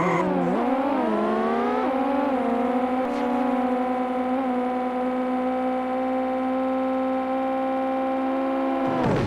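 Synthesized race cars from the 1991 Amiga racing game Vroom drone steadily, engine tones sliding up in pitch then holding a continuous buzzing chorus of layered motors before cutting off abruptly.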